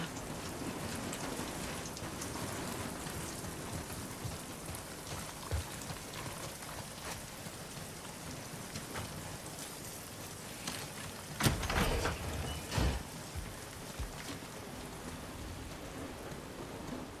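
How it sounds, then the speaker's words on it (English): Steady heavy rain hisses throughout a scene in The Last of Us Part II, with a brief louder rumble of thunder near the end and no speech over it. "Get out of the rain."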